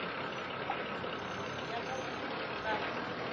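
A van engine idles steadily in the background on a cobblestone street, a low continuous rumble mixed with outdoor ambience.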